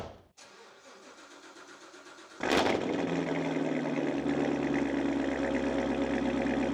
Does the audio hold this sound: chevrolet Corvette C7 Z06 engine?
yes